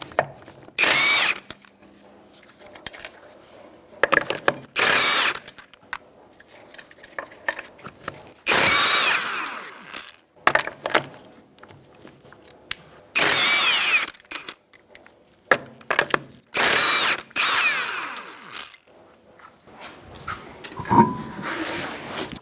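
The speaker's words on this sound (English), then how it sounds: "I'm going to use a 21mm socket to take off the wheel." A power impact tool with a 21mm socket zips wheel nuts off a Kia Soul in short, loud bursts separated by pauses, close by and without talking.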